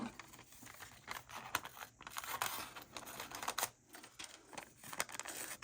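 Paper being cut out by hand to free a Target logo for a Christmas junk journal, a steady run of soft snips and crinkly rustles close up, with no talking.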